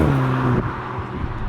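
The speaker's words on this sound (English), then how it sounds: "you got the sound actor firing away, usual sketch" A 2021 VW Golf Mk8 GTI engine with its sound actuator rumbling, heard from inside as a steady, close, loud drone with low tones that fall away as the revs drop.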